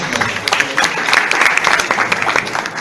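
An audience at a lecture on deductible and non-deductible expenses gives a short burst of brisk, close applause from many hands, steady and loud throughout.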